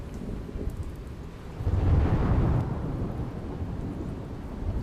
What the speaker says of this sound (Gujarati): મહેસાણાના ઊંઝા પંથકમાં ધોધમાર વરસાદ વરસ્યો